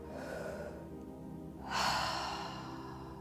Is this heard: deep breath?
yes